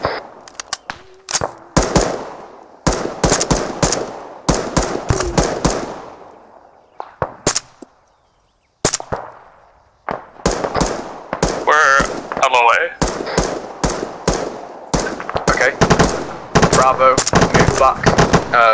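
Squad automatic gunfire in the military game Arma 3, loud bursts and rattling volleys repeating through most of the stretch with short gaps, while voices call out over the shooting.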